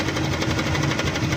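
Honda Click 125 scooter engine with a faulty tensioner, a steady rapid mechanical clatter and ticking over a running idle, loud and close throughout the short burst.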